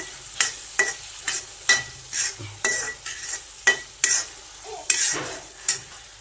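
Peas cook in a pan while a spoon stirs them, giving a steady series of sharp metallic scrapes and taps, about two per second, over a faint sizzle.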